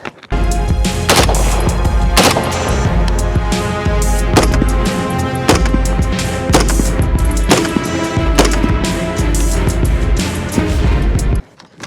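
Rifle shots from an Orca fired one after another during an accuracy test at a range, sharp loud cracks at irregular intervals over a steady low rumble, close and without talk.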